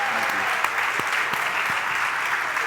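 Dense, sustained audience applause at a university lecture series event on stage, a loud continuous wash of many hands clapping with a few faint voices underneath.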